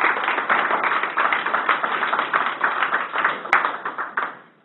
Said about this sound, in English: Give her a hand, round of applause.